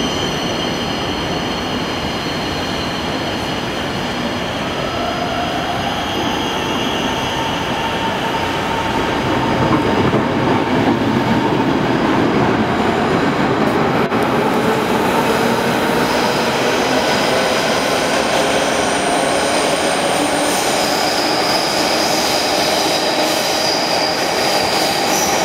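A Polish locomotive hauling the EIC 54 train departs Berlin Hauptbahnhof, with a long rumble of rolling wagons, clicking wheels and squealing rising and thinning over about half a minute, heard from the platform.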